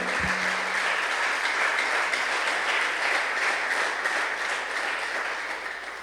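A church congregation applauds loudly and steadily at a sermon by an Ethiopian pastor, a dense wash of clapping sustained throughout with a brief low thump near the start, fading only slightly at the end.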